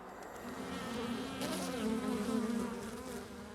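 Bumblebees buzz close by in a continuous droning hum that swells and fades slightly over a few seconds.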